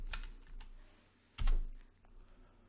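A handful of separate keystrokes on a computer keyboard, one sharper and louder than the rest, tapped close by in a quiet room.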